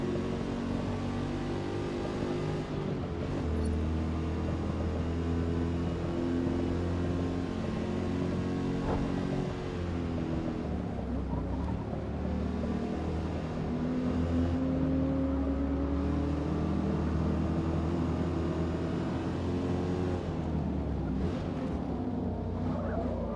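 Car engine in Gran Turismo 7, a steady torquey drone with shifting pitch as it revs up and down, sustained and fairly loud over a long stretch, without talking.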